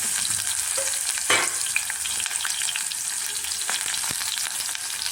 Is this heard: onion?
yes